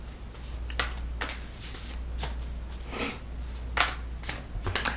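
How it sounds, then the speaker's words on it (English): Playing cards being shuffled in several quick riffling bursts at close range, separated by short pauses, over a low steady hum with no talking. "Now, shuffle."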